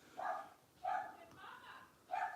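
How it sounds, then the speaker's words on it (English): Pet dogs bark indoors in a house, four short muffled bursts in a loose rhythm, faint and somewhat distant, under a quiet room tone. "You can probably hear my doggies bark"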